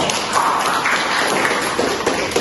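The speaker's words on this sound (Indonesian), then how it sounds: "Berikan tepuk untuk kelompok 1." A classroom of students applauds a presenting group during a teaching practice session, a dense steady patter of many hands clapping at close range throughout.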